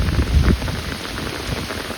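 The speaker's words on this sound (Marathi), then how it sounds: "आणि पाऊस तर जोरालाच लागलाय अजून बी चांगलाच बघा" Heavy rain pours down outdoors near hills, a dense, steady patter of drops on surfaces, loudest at the start and then continuing evenly with no talking.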